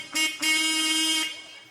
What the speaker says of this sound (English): But when I honked my horn